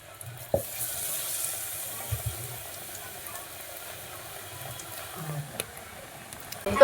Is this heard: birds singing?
no